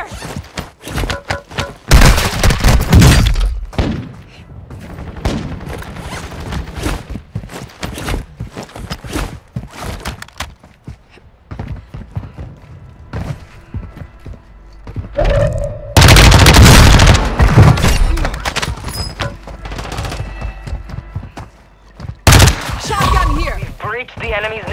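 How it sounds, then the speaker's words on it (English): Bursts of gunfire and booming explosions from Call of Duty: Modern Warfare II combat, loud and repeated in clustered volleys with quieter gaps between, mixed with game sound effects and shouted voices. "Taking effective fire!"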